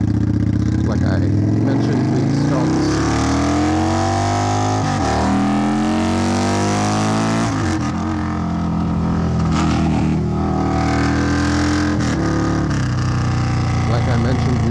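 An Indian Scout Bobber motorcycle engine rumbles up close, its pitch rising and falling as the rider accelerates and eases off while riding through a neighborhood.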